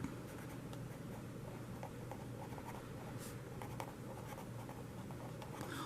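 A math solution to a quadratic equation being written out by hand, a faint scratchy pen or marker stroking in short irregular bursts over a low steady hum, no speech.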